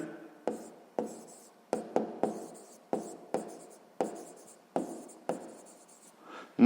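A pen writing on paper during a sixth-grade maths exercise, a steady series of about a dozen short scratchy strokes, each starting sharply and fading, close and fairly quiet with no talk.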